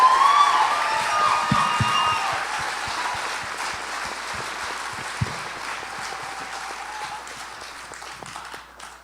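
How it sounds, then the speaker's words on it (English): A crowd at a celebration event applauds steadily and cheers for a speaker's family, with excited voices near the start and the clapping slowly thinning out. "let's give a round of applause to them"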